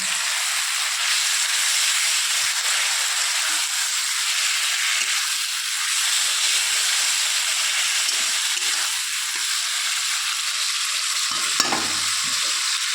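Fish oil heating in a pan, a loud, continuous bright sizzle and hiss holding steady up close, with a brief clatter near the end.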